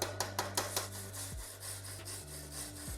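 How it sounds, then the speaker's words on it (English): A wire brush scrubs a flux core MIG weld bead, opening with several quick sharp scraping strokes and then a rougher rasping rub, close and fairly quiet, with a low hum underneath. "there it is, all cleaned up with the wire brush"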